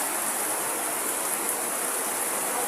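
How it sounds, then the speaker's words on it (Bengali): Rain pours steadily in an even, dense hiss with no breaks, close and fairly loud with no voices. "যে বৃষ্টি পড়তেছে এই বৃষ্টি"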